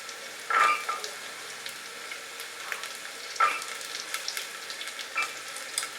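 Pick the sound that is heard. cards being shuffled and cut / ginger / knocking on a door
ginger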